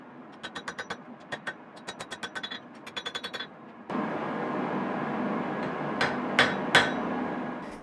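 Ringing hammer blows strike a Damascus steel hunting knife blade on an anvil, arriving in quick bursts of bright metallic clangs. A steadier hiss of forge noise follows, broken by a few isolated louder strikes near the end.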